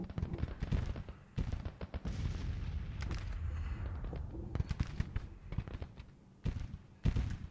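Artillery guns firing across a battlefield in Grand Tactician, a fairly distant, irregular string of booming shots and crackling gunfire overlapping in a busy rumble.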